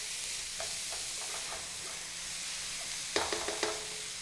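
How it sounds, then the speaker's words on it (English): Onions and red bell pepper sauté in a pan, a soft steady sizzle broken by a few short bursts of stirring scrapes near the end. "And saute this until they're just slightly tender"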